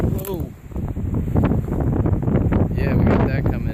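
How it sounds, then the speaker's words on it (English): Strong storm wind buffets the microphone in loud, gusty rumbles and roars. A person talks over it throughout. "And it is windy as hell right now."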